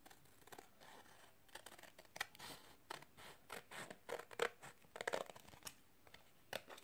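Paper being cut with scissors for a wall decoration shaped like a tree, a run of crisp snips and rustling strokes close by, irregular and fairly soft, with no one talking.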